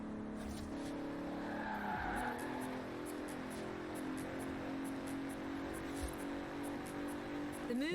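A 2017 Bentley Continental Supersports in Forza Horizon 4 drives hard, its engine droning steadily with tire squeal and a sharp shift in pitch partway through, continuous and fairly loud.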